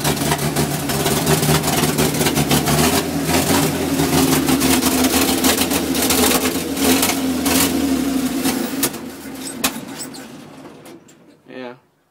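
Truck engine running with a steady low rumble and rattling mechanical clatter, a person talking over it, then the engine cuts off near the end.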